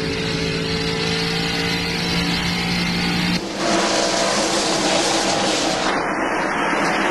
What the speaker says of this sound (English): Gordon's car must have pushed up a little bit, but here comes Gordon back.